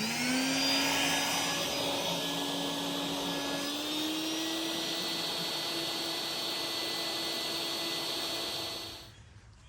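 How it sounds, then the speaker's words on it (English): A wet vacuum sucks debris out of a failed Orangeburg sewer pipe dig, a loud steady motor whine with a rising pitch as the load changes, running continuously before cutting off near the end. "Okay, so I'm just gonna vac all this out real quick."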